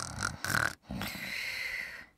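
A voice imitates a sheep snoring in a children's phonics story: two breathy, snorting inhales, then a longer rasping exhale, close and fairly quiet.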